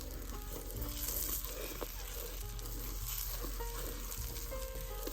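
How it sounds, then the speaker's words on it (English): Butter browns in a pan with a soft, even sizzle and faint bubbling under a low steady hum, with no talking. "This is how you brown butter, right there."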